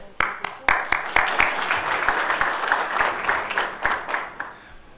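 A conference audience applauds to welcome a speaker at a water funds biennial session, with a few sharp, close individual claps standing out over a lighter, continuous patter of clapping.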